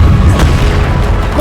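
A deep, booming blast from the Bombarda spell in Hogwarts Legacy rumbles loudly through the whole short moment, heavy in the low end, amid combat.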